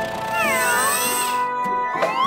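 A cartoon cat gives a couple of bright, sliding meows, clear and close, with a sharp squeak near the end and no talk over it.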